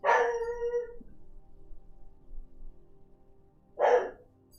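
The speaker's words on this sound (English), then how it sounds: "He's just barking at neighbors" A dog at home howls and yips at neighbors in two short bursts, one at the start and another near the end, separated by near silence and faint low rumble.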